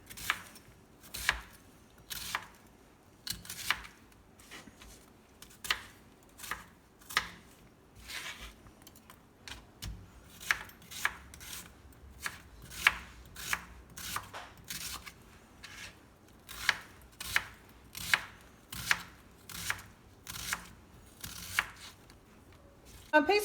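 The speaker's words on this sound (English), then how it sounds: "Chop it down the middle so I have a flat surface, and then I chop it along the side." Kitchen knife chopping ingredients for meat loaf on a board, quiet crisp taps in uneven bursts over half a minute, some quick runs of cuts, recorded close but faint.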